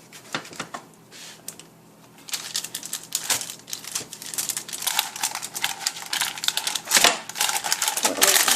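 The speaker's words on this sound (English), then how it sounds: "then we're just going to go ahead and cut it into bite-sized pieces" A knife slices through dense no-bake fudge studded with Maltesers and Mars bar pieces, giving irregular crisp cracks and crunchy crinkling bursts, close and fairly loud, with brief quieter gaps between cuts.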